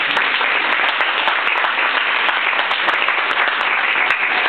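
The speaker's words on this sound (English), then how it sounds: "Give yourselves a hand" An audience in a room at an evening celebration applauds steadily with dense, sustained clapping from many hands, loud and close, with no talk over it.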